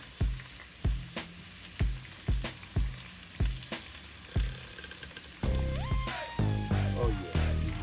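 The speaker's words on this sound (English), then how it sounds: "I'm going to let these cook, and when these potato chips are ready to come off" Potato chips frying on a Blackstone griddle, with regular sharp sizzling bursts pulsing about every half second, followed by music with tonal notes over the frying toward the end.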